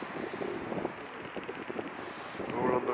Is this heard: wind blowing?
yes